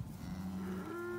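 Red Angus cows in a herd of about a thousand head give a single drawn-out, tonal moo that swells and holds steadily for about a second, close and clear with no voices.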